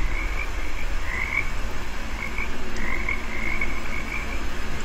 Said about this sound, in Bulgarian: Чуваме жаби,